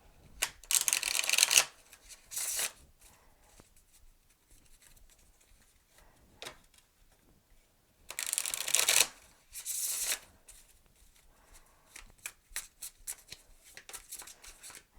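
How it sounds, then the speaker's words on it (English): Tarot cards are shuffled in two bursts of crisp riffling, each followed by a brief flutter, with quiet handling sounds and soft taps in between. "do they shuffle nicely? Oh, they shuffle very nicely"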